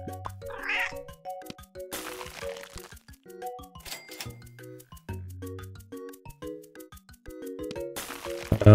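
Game cat meow from the tabby cat in Super Auto Pets, a short cartoonish cry rising over bouncy game music, plucked notes and occasional crinkly effects, no talking.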